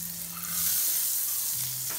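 Butter melts in a hot pan with a constant bright sizzle and crackle, close up and filling the whole moment, with a faint low tone under it and no talking.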